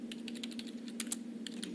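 A character in the video game Everlasting Summer types quickly on an old keyboard, a steady run of light, crisp key clicks over a low constant hum, fairly quiet and with no talking.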